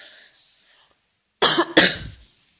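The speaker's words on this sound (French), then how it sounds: "Je suis désolée pour la toux, c'est pas très agréable." A woman coughs twice in quick succession, sharp and close, after a moment of soft background hiss and near silence.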